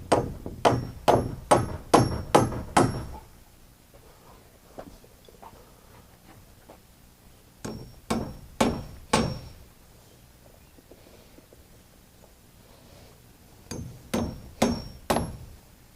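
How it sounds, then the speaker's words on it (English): A hammer drives nails into a plywood wall on a tiny house trailer, with three close, sharp bursts of rapid strikes, each five or six blows, separated by quiet pauses with faint knocks. "I'm going to nail the bottom up better"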